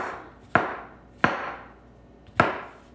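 Vegetables being cut on a board for a soba noodle bowl, three separate crisp knife chops spaced unevenly, close and clear with quiet gaps between.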